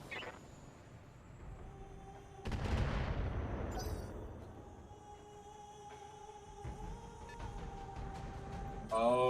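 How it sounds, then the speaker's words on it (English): Weapons fire on the Corpsec tower in the Battletech video game: a heavy blast around midway with rumbling decay, later smaller impacts and a steady mechanical hum, no talk. "Well, you can fire on the Corpsec tower."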